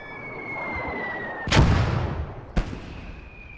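Mortar fire in a Battle of Arras war game, two heavy booming blasts about a second apart, the first louder with a long rumbling decay, over steady battlefield noise and a faint whistle.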